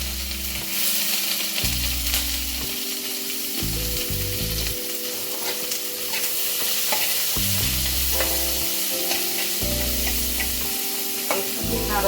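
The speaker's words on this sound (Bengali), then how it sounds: "পেঁয়াজটা দিলাম," Onion sizzling and frying in a pan for a spicy bitter gourd chutney, a steady close crackle with repeated stirring and scraping strokes throughout, no talking.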